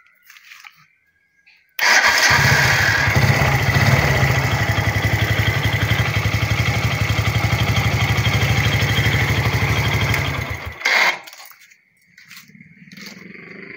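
Kawasaki Kaze motorcycle fitted with an NMAX regulator: a starter whirs for about nine seconds as a loud, rapid churning, then cuts off. A brief second burst follows before quiet.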